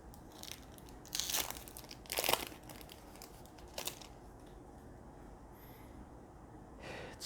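Crinkling foil wrapper of a Zendikar Rising Magic: The Gathering set booster pack being opened, with a few short crackling bursts over quiet background noise, close and fairly soft.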